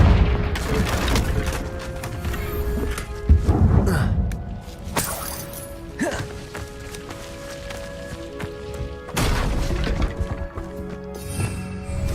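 Confringo blasting-spell explosions in Hogwarts Legacy: several loud booming bursts land over a busy backdrop of footsteps and game effects, with the heaviest blasts near the start, in the middle and toward the end, and no talking.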